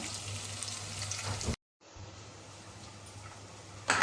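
Onions sizzle steadily in a pan, broken by a brief silent gap, then the frying resumes with a louder burst at the end.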